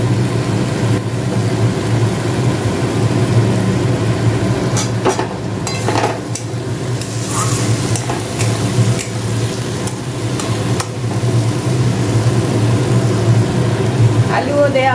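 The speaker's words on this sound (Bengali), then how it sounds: "আর জল দেওয়ার আগে আমি ভেজে রাখা আলুগুলো ছেড়ে দিচ্ছি।" Fried potatoes tipped into a hot pan and stirred, a steady sizzle with scraping and clattering strokes of a spoon over a constant low hum, fairly close and loud, with no talk.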